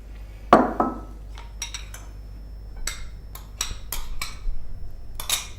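A utensil mixes honey, almonds and butter in a bowl, giving a scattered run of sharp clinks and short scrapes against the bowl, one louder knock near the start and several clustered taps toward the end.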